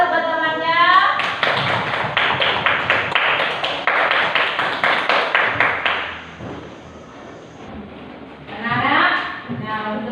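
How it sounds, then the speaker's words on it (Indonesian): Classroom applause from schoolchildren for a classmate, a rapid burst of clapping that lasts several seconds before fading. Children's voices call out over the start and again near the end. "Beri aplaus buat temannya"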